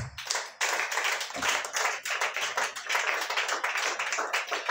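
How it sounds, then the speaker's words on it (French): A church congregation clapping and acclaiming during a worship service, a close, rhythmic run of hand claps lasting several seconds, steady and alone without speech. "Et si tu sais, tu acclames le Seigneur Jésus"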